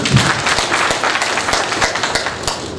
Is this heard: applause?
yes